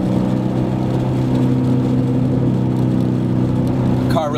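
A 2011-2014 Ford Mustang GT fitted with a Borla exhaust rumbles with a loud, steady, deep engine note, close by and unbroken, with a brief rising whir at the very end.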